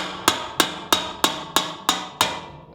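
Hammer and brass punch tapping the lock ring on an empty fuel tank of a 1965-1970 Ford Mustang coupe: seven sharp metallic strikes at a steady, even rhythm, close and clear with short ringing decay, no talk.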